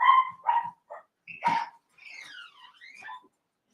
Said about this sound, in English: you're going to hear dogs probably